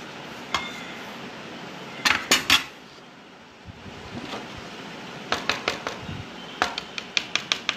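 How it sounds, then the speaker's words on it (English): A scraper or knife works over food on a hard kitchen surface, giving scattered sharp clinks and taps with a stretch of softer scraping, quiet and close with no talking. "now again scrape this also with a scraper or with the help of knife."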